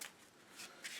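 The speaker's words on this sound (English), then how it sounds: "So now we have to shuffle again." Playing cards shuffled during a Marvel Legendary board game session, giving a few brief papery riffle bursts close by, quiet and without talk.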